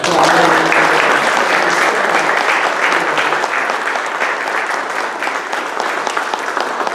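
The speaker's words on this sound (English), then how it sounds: "let's have a big round of applause" Big round of applause at a community meeting, many people clapping together in a loud, sustained, even wash that continues throughout.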